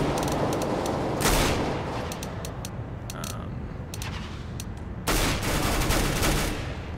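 Gunfire in CS:GO, a loud, sustained stream of rapid shots with two sharper, heavier bursts standing out, continuous throughout with no talking.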